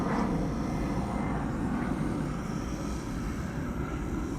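An EasyJet airliner departs from Amsterdam Schiphol, its engines giving a low, rumbling roar that holds steady and eases a little across the few seconds, distant and moderate, with no talk.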